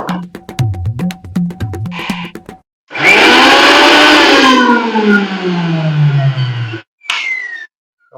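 An electric mixer grinder, just repaired, runs in a loud steady whine that lasts a few seconds and winds down, with short clicks and switching noises before it and a brief burst after.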